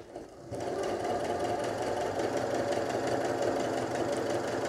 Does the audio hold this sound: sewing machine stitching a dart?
yes